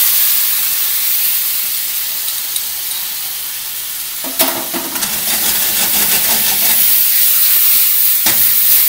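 Potatoes and duck sizzle steadily as they are sautéed in a hot pan, a continuous loud frying hiss with a sharper burst of crackling midway as food is stirred or added.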